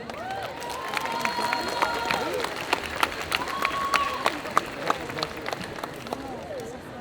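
A convention audience applauds and cheers after a cosplay group's performance at a contest, the clapping spread across a crowd with whoops and chatter, under clear, rising and falling pitched voices that carry on over it.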